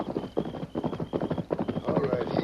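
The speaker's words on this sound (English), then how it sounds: "There's a horse galloping this way." A horse gallops in a rapid, rhythmic clip-clop that grows nearer through the night, its hoofbeats strong and even, with a voice speaking over it in a radio western drama.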